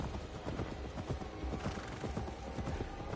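Horse hooves clip-clop steadily along a path in Assassin's Creed Valhalla, a soldier riding at an unhurried pace, the rhythmic footfalls continuous and fairly close with faint ambient game sound beneath.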